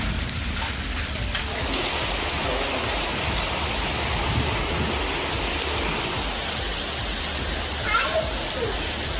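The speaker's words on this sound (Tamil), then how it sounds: "சென்னையை அடுத்த ஆவடியில் பிற்பகல் நேரத்தில் ஆலங்கட்டி மழை பெய்ததால் பொதுமக்கள் மிகுந்த மகிழ்ச்சி அடைந்தனர்." Hail and rain falling in Avadi near Chennai during the afternoon, a steady dense patter and hiss that stays loud and even throughout, with a few sharper knocks near the end.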